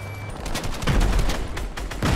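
Gunfire in the Fortnite video game during an FNCS finals match, with dense overlapping bursts of rapid shots and impacts that swell and recur loudly across the whole stretch, without speech.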